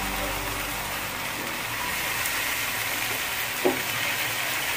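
Egg ghotala masala of grated tomato, salt, coriander leaves and pepper frying in a pan, a continuous even sizzle with a faint knock partway through.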